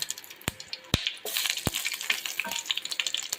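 Cumin, mustard seeds and bay leaf crackle and spit in smoking-hot oil, a steady close sizzle broken by three sharp popping bursts early on, with no voices.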